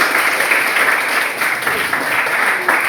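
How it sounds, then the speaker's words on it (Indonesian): A classroom group at an academic coaching session claps together in a dense, loud burst of applause that carries on steadily and close with brief surges. "Tepuk tangan untuk kita semua."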